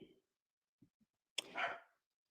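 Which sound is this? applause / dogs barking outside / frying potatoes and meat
dogs barking outside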